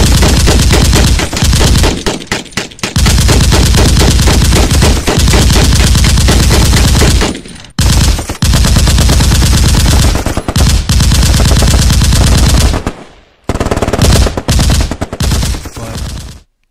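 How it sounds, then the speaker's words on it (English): Loud, close gunfire with bursts of rapid machine-gun fire, sustained rattling volleys broken by a few brief pauses. "Shots fired, I guess."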